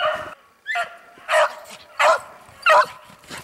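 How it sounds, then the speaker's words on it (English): Dogs chasing a hare give several loud, close barks and yips in an uneven sequence, with short gaps and a whimpering tone between them, and no speech. "Here the dogs come on him."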